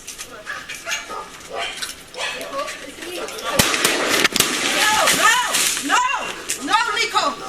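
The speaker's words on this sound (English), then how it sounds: "Whoa, that's a big dog." A large dog barks in a burst of sharp, close barks inside a home during a tense police call, with agitated voices talking and shouting around it.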